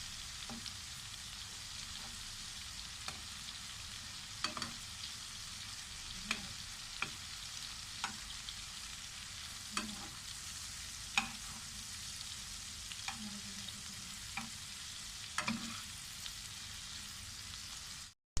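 Prawns frying in a pan for a chilli fry, giving a steady, fairly soft hiss of sizzling oil with occasional light clicks of stirring, heard close up throughout.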